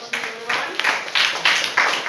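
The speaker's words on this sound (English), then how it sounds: "Clap for everyone." Classroom of students clapping together in short, roughly even bursts, several rhythmic group claps close by and fairly loud, with no voices over them.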